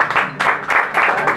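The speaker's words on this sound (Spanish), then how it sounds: "el aplauso del respetable" Audience at a Peruvian peña applauds guitarist Rafael Amaranto, a short spell of clapping from a small crowd that comes in uneven waves, fairly close and lively.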